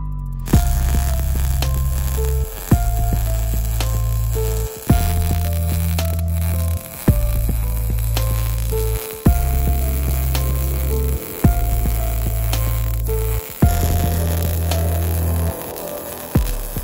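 A MIG welder burns wire while welding a quarter-inch steel plate winch pad for a custom Ford Bronco bumper, giving a loud buzzing crackle in repeated bursts of about two seconds, each separated by a brief pause.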